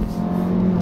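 Turbocharged compact SUV, a 2019 Jeep Cherokee, Honda CR-V, Toyota RAV4 or Ford Escape, accelerating in sport mode on a canyon road with a steady, loud engine drone and a droning tonal hum, briefly heard.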